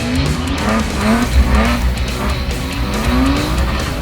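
A BMW E36 driven hard with its engine revving and tires squealing in repeated rising chirps and skids, loud and close throughout with no voices.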